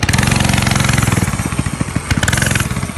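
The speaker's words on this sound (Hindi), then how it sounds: "इसके बाद रॉड और कल्लू मामा घोस्ट राइडर की बाइक पर बैठते हैं और वहां से निकल जाते हैं।" A Ghost Rider motorcycle from an animated cartoon pulls away, its engine a loud, steady buzzing rattle with pulsing throttle that holds close and strong throughout.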